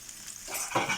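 Fish, horse mackerel and bonito, sizzle in a little oil in a pan, a soft hiss that swells into louder crackling frying near the end.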